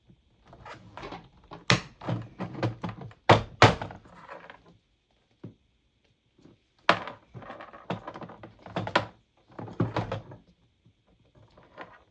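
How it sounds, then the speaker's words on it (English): Leather hole puncher punching a row of holes in a belt: loud, sharp thunks and clacks repeating in irregular bursts, close up, with brief pauses between punches and no talking. "the loud noise that my leather hole puncher makes"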